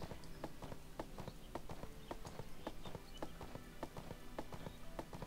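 A horse trots in the video game ArcheAge, its hooves clip-clopping in a quick, regular rhythm of sharp close hits over a quiet background.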